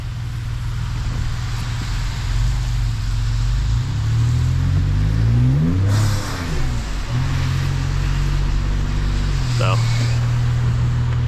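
A Ford F-150 pickup fitted with a performance intake, exhaust and tune accelerates hard on wet pavement in the rain, its deep engine roar rising and falling through revs, with tire hiss from the wet road and brief talk.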